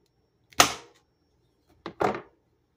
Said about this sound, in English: So let's cut them open, y'all, and see how they do